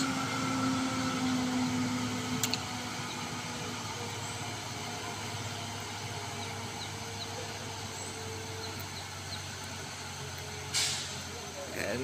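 A truck's engine drones steadily as it creeps carefully up a steep incline, with a faint hiss and a couple of brief sharp clanks, and a voice talks over it.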